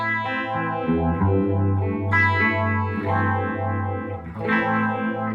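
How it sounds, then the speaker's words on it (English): An electric guitar playing sustained chords through a Behringer Vintage Phaser VP1 pedal's swirling, sweeping effect, warm and slightly distorted, continuous and up close. "there's a clarity to the phaser that the multi-effect just didn't seem to have"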